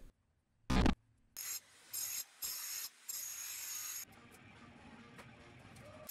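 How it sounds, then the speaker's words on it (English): A demolition hammer with a clay spade attachment rattles in several loud bursts with short pauses while digging dirt, then gives way to a quieter scraping rumble. "This angry little turbo shovel is just a clay spade attachment on a demolition hammer."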